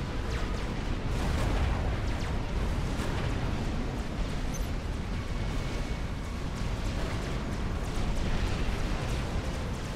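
Dense, continuous barrage of artillery fire and explosions from the real-time strategy game Supreme Commander: Forged Alliance, a steady rumbling wall of booms with no pauses, loud throughout.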